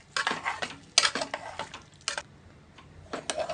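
A spoon mixes beans dal in a pan, giving close, bright clinks and scrapes in quick uneven bursts with short gaps between them, and no one speaks.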